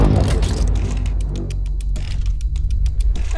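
A car with an enormous twin-turbo V12 accelerates almost silently: a smooth, steady low rumble with faint light ticking over it, no voices.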